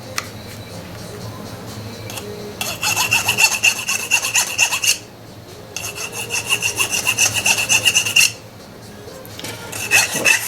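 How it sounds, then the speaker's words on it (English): A hand file rasps burrs off the metal rail ends of N scale model railway track, in two long runs of quick, rhythmic, close strokes separated by pauses, with a short final burst. "I'm just going to clean up these ends a little."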